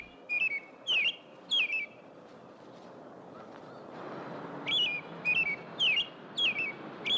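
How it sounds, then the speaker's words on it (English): Birds chirp in a park in a 1962 horror film, bright repeated whistled calls in two quick bursts of three or four notes, separated by a stretch of soft background hiss. "I can hear the birds again."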